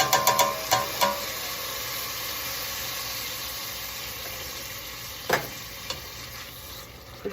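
Garlic hitting a hot pot while cooking black bean soup, giving a steady loud sizzle and frying hiss with a few clinks and scrapes of stirring at the start and near the end.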